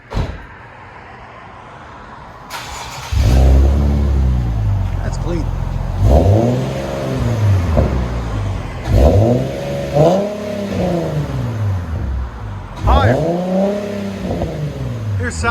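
Infiniti G37 with a 3.7L V6, an Invidia Gemini cat-back exhaust and a resonator delete, revving hard in several repeated bursts that rise and fall back to idle, heard from nearby with brief talk between the revs.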